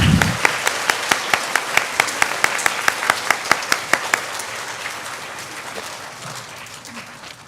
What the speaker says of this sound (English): Let's give our pre-K friends a round of applause.